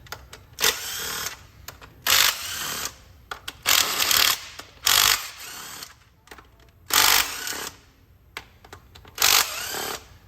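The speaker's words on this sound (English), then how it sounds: "let's go ahead and loosen up the valve cover bolts." Ratchet working valve cover bolts loose on a Mazda Miata cylinder head, heard as a series of short bursts of rapid clicking, about eight separate runs spaced a second or so apart, fairly close over a quiet garage background.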